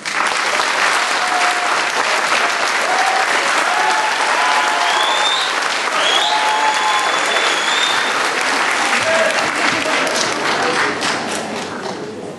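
Loud, sustained applause from an audience at an outdoor election campaign event in Ivaylovgrad, Bulgaria, welcoming a singer; dense clapping fills the whole stretch with a few bird chirps above and eases slightly toward the end.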